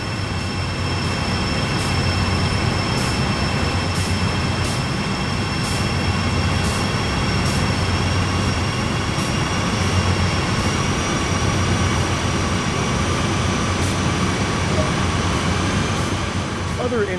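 Diesel freight locomotive exterior in Train Sim World 2 on the Sand Patch Grade, a steady loud engine drone with a sustained whining tone, continuous for the whole stretch with no talk.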